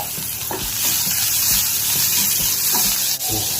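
Chopped onion sautéing in a pan for rava kozhukattai, a loud continuous hiss of frying with intermittent stirring knocks, close up and without speech.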